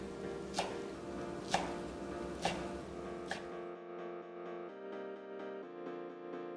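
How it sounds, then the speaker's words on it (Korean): Square Korean fish cake sheets, halved and stacked, cut on the diagonal into 1 cm slices with a knife for tteokbokki; four sharp, evenly spaced chops on a board ring out nearby, followed by quieter tonal kitchen hum. "사각 어묵 2장은 반을 갈라 겹쳐서 1cm 두께로 어슷 썰어 준비하고"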